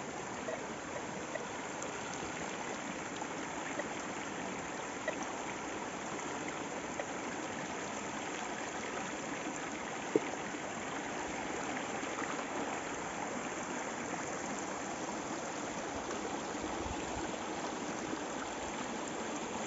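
A small creek flows steadily with a continuous rushing and trickling wash that stays even and close throughout, with no talking.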